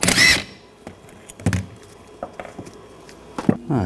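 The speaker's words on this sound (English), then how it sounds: "I'm going to use a 17mm socket. Take these bolts out." A 17mm socket and ratchet removing the rear brake caliper bracket bolts on a 2015-2020 Cadillac Escalade, with a sharp loud click at the start followed by scattered close metallic clicks and clunks.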